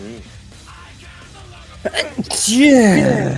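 One sharp sneeze near the end, loud and close, following quiet talk between people.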